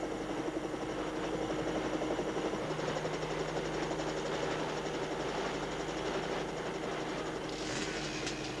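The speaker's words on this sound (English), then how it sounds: "their rotating blades kicking up dirt and wind" Steady, heavy rotor whirring and engine drone fill the whole stretch, a dense continuous rumble with a rapid chopping pulse, loud and close.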